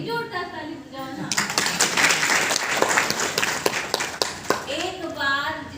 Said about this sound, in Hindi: जोरदार ताली बजाओ ना।